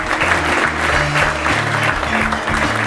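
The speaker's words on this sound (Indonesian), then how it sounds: "Sekali lagi Lur," Short burst of hands clapping from a group, dense and steady for about three seconds, loud and close, with faint voices mixed in.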